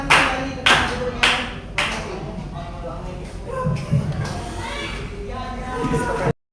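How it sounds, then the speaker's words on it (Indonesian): Classroom applause for a group of students after their presentation, several bursts of clapping from a small group with shuffling and background murmur, fading then rising again near the end. "Beri aplaus untuk kelompok 1."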